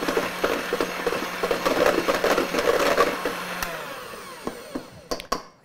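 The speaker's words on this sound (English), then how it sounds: "I have the beaters on my hand mixer." An electric hand mixer with beaters whips cream in a kitchen, giving a steady close whirring drone with a rattling texture, then winding down and stopping near the end.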